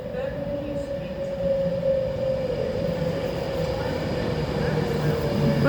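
A London Northwestern Railway train at a Coventry station platform, a steady low rumble with a sustained tonal whine running throughout, fairly close and growing slightly louder toward the end.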